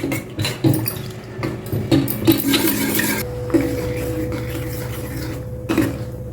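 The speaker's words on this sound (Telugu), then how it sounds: "ఇలా కలుపుతూ ఉండండి అది దగ్గర అయ్యే వరకు" Thick gram flour curry being stirred in a metal pot, a ladle scraping and clinking against the sides in uneven strokes, loud and close, with no talk.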